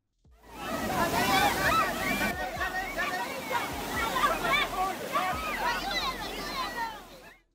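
A car pushes through deep flood water on a blocked road, sending up continuous loud splashing and sloshing surges close by, with a voice talking over the rushing water.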